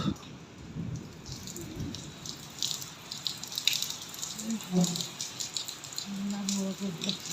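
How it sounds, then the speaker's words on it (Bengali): A hailstorm with hailstones pelting down, heard as a dense, continuous patter and scattered sharp ticks on surfaces, fairly faint, with murmuring voices underneath. "এত পরিমাণে শিল পড়ছে যে বলার মতো না"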